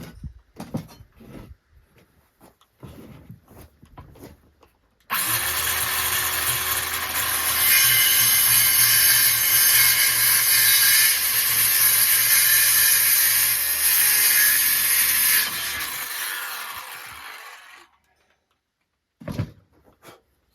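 A battery-powered saw cuts through wood while building a cabin extension, a loud steady buzzing whine lasting about ten seconds, preceded and followed by faint handling clatter and knocks.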